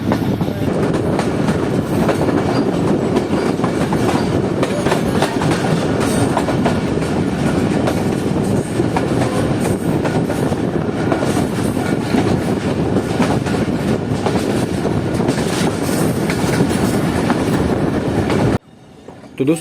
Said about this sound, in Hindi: हमारी ट्रेन जो है वो मंगोली रेलवे स्टेशन को स्किप कर रही थी